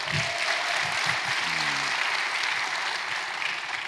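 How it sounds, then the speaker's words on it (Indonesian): Audience applauding the mayor at a gathering, steady dense clapping throughout, fairly loud and close, with a brief faint voice tone partway through. "Tepuk tangan untuk Pak Wali Kota."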